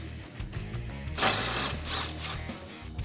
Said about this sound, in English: we need to take the brake caliper off of the rotor, and that is going to require a 12mm socket.